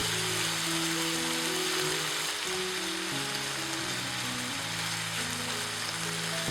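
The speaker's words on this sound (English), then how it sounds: "as you add the chicken you can hear the sizzle" Steady, loud sizzling of chicken frying in hot oil, a constant crackling hiss close up, with a musical tone running underneath.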